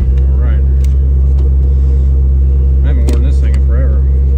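A modded Shelby GT350R Mustang on a race track gives a loud, steady engine rumble heard from inside the car, with people speaking over it.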